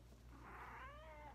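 A pet cat gives a single drawn-out meow that rises and then slides down, close by, over a steady low background hum.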